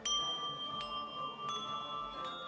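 Small bells are struck about four times at an even, unhurried pace. Each clear, ringing tone sustains and overlaps the next, soft and close with no talking.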